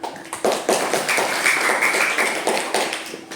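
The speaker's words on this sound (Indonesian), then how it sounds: "mari kita tepuk tangan bersama" A classroom of students claps their hands together in unison, a dense, steady run of close, bright claps lasting the whole moment.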